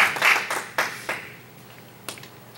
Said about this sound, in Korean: 우리 감사의 박수 한번, 영광의 박수 한번 올려드리겠습니다